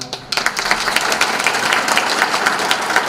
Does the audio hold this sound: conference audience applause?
yes